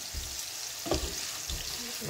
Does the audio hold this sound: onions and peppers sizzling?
yes